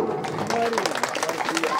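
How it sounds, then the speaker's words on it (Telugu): An audience at a drama festival in Bheemaram, Hanamkonda, gives dense, continuous applause while a voice speaks over the clapping. "ఒకసారి అందరూ గట్టిగా చప్పట్లు."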